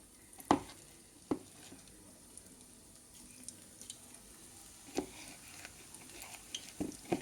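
Onion pakoda batter drops into hot oil and fries, a faint, steady sizzle broken by several sharp crackling bursts as pieces go in, close by with no talking.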